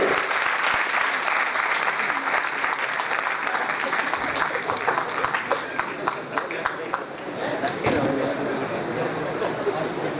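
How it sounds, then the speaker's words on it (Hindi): A crowd applauds steadily for several seconds, dense clapping with a few sharper claps standing out and some murmuring voices underneath. "एक बार जोरदार तालियां कीजिए"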